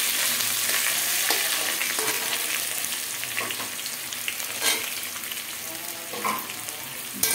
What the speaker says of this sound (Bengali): তেলের মধ্যে দিয়ে দেবো পেঁয়াজ কুচি।